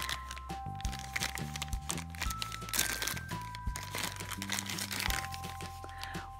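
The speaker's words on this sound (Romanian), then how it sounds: "hai să deschidem toate pungile acestea micuțe" Small plastic surprise bags from LOL dolls are torn and crinkled open, giving a close, continuous run of crackling and rustling plastic with bright crisp bursts, while background music plays with steady tones underneath.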